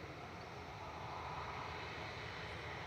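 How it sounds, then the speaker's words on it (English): An EasyJet airliner moves along the taxiway with a faint, steady engine hum and broadband rumble, distant and unbroken. "The loitering EasyJet is on the move."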